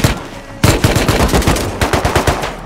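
Rapid automatic gunfire in the Rust video game, shooting at a floor: a short burst, a pause, then a long sustained rattle of loud, close shots.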